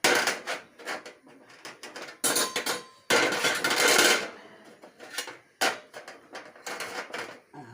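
A wire grill plate set down on a stovetop while preparing Indore-style dal baati, giving several metallic clanks and rattles in bursts, close and fairly loud, with no talk.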